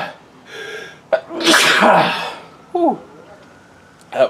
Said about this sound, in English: And I'm going to sneeze any moment.